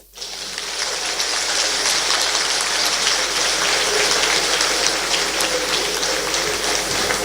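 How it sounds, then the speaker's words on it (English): Audience at a Bayelsa and Kogi state election event applauding after a speech, a dense, steady roar of many hands clapping that builds quickly and holds loud throughout. "Let's put our hands together and an applause."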